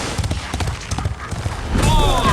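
Horse hooves clip-clop in a fantasy TV battle scene, a quick run of thuds with a rising whinny near the end, mixed under shouting and dramatic background sound.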